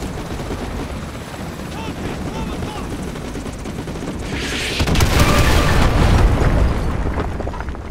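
Artillery fire in Call of Duty: Modern Warfare 2 Remastered: a constant roar of distant rumbling and rotor-like drone that swells into a louder heavy boom and crackle midway, then stays loud and thick to the end.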